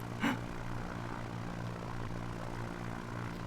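Small propeller plane in a flight simulator game during a STOL competition, engine droning steadily and loud throughout with a brief bump near the start, no talking.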